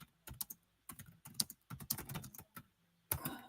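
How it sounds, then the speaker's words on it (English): Typing on a computer keyboard, with bursts of clicking keystrokes in short irregular runs separated by brief pauses, close and fairly quiet. "We're getting a little better at my typing."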